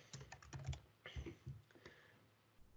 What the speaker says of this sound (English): I click in to where I want to put some text, and then I start typing